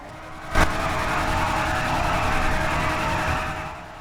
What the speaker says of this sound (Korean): 엔진 소리 들려줘?